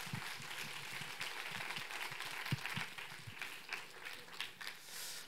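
Faint, distant applause from a Korean church retreat audience welcoming a guest speaker, a thin, steady patter of claps with a few louder thumps, heard at low level throughout.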